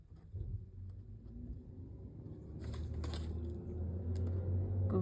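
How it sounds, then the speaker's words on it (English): A garbage truck passes outside, its low engine rumble building steadily and staying continuous and fairly close, with clanking and mechanical noise rising partway through. "There's the garbage truck. Can you hear that?"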